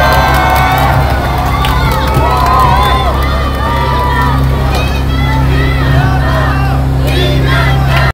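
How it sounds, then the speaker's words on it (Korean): Large crowd cheering and shouting at an outdoor campaign rally at Pyeongtaek Station, South Korea, a dense steady roar of voices with a low hum beneath throughout. "큰 박수로 맞이해 주십시오."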